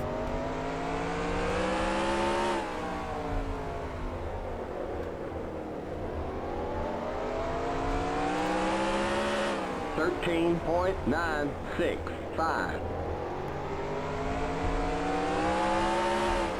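Race cars roar steadily in the NASCAR Racing 2003 video game, with engine pitch rising and falling as the pack streaks past, plus a busier burst of overlapping engines mid-way, loud and continuous throughout.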